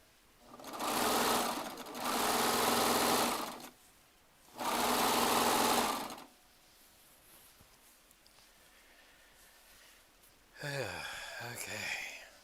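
A Baby Lock Triumph serger runs in three long, loud bursts of rapid stitching separated by short pauses, followed by quiet and then a brief rattling burst of sound.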